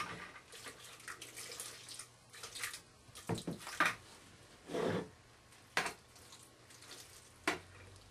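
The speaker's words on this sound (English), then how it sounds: "I'm just going to pour it over so that it's just overlapping." Dye poured over a scrunched cotton T-shirt for scrunch dyeing, giving soft liquid splashing and trickling in several separate pours, close and fairly quiet, with no one talking.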